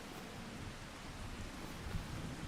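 Steady rain falls in the Farming Simulator 25 video game on a November morning, a soft continuous hiss of broadband noise with a faint low rumble, quiet and even throughout.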